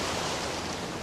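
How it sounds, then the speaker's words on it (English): Indian Ocean surf rolling onto wet sand as the tide comes in, a broad steady hiss of waves, moderately faint and continuous with no talk. "The tide is definitely coming in."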